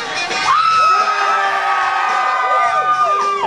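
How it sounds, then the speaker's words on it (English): A crowd of kids at a bull riding competition in a music hall cheers, shouts and whoops loudly and continuously, with high shrill voices carrying over the whole stretch. "If you're looking for Mark, now's your time to make some noise"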